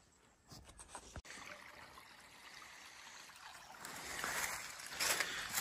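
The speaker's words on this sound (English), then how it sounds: "The water comes down. It's quite a bit of it coming." Water flows down over solid bedrock at an old waterfall site near mining tailings, a faint continuous trickling wash with a sharp click early on and the flow swelling slightly louder toward the end.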